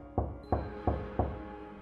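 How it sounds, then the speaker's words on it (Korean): Four evenly spaced, hollow knocks on a university department office door, sounding as a close, dull knocking sound effect with short decays in a quiet room. "갑자기 누군가 문을 두드리더군요"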